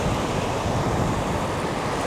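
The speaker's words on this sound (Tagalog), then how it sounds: "ayan ang alon." Ocean surf rolls in on a Gold Coast beach in Australia, a loud, continuous wash of breaking waves and wind with no pauses and no voices.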